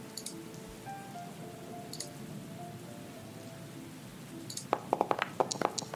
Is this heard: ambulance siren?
no